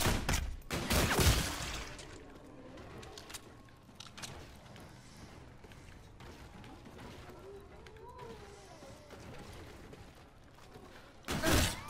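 Gunfire in the Call of Duty Infinite Warfare zombie mode, a few loud bursts at the start and end with quieter game noise between.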